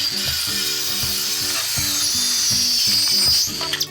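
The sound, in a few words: Bosch electric circular saw cutting wood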